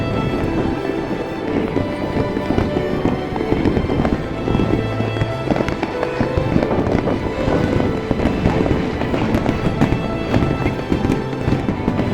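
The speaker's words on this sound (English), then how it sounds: "There was an awesome fireworks show." Reunification Day fireworks show in Saigon, with dense rapid bursts and crackling booms that continue nonstop and loud, like a busy crowded finale heard from nearby.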